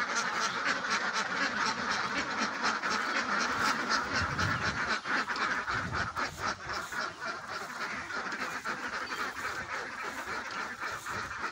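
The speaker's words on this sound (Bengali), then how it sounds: "এবং হাঁসের খামার।" Ducks at a duck farm beside a fish pond quack repeatedly in a dense, overlapping chorus, with some calls louder and closer, lasting throughout.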